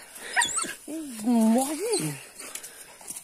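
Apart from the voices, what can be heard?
hunting dogs barking and whimpering during armadillo hunt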